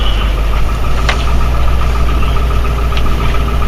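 A car engine running steadily as a drive begins on a winter morning, a loud continuous low rumble and hum with a few faint clicks and no talk.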